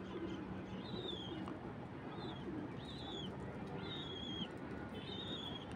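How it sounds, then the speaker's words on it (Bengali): Pigeons in a home loft call in short, repeated, faint notes over a steady, murmuring background. "সব কবুতর বসে পড়ছে"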